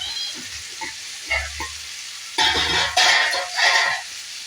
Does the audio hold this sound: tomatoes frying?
yes